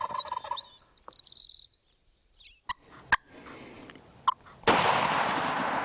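A single sharp shotgun blast at a wild turkey cracks out after turkey gobbles and a few bird calls, followed by loud rushing outdoor noise.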